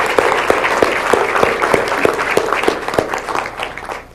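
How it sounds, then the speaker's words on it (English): A seated audience claps loudly and close by, a dense burst of applause with a few strong, rhythmic individual claps standing out, slowly fading toward the end. "So can we give a round of applause for all the title guarantee"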